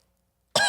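A man imitates a single short, sharp cough from a silent crowd, one abrupt burst after a moment of near silence.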